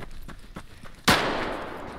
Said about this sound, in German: Zumindest ja, ging von mir der aus der Schuss los hier oben.